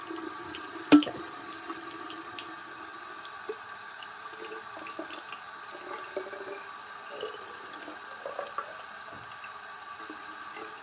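Warm water runs steadily from a tap while a hamster cage is being cleaned, a continuous faint splashing stream with one sharp knock near the start and small clinks throughout.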